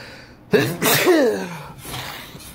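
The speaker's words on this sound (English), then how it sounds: "I've been sneezing a lot" A single close, abrupt sneeze with a sharp intake and forceful burst, followed by a brief exhale and quiet room tone.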